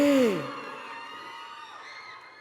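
A crowd of fans at a fan meeting in Thailand screams and cheers loudly at first, the roar fading into lingering excited shouts and chatter.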